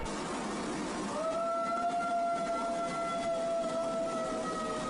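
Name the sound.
dog howling at night, thought to be a ghost wailing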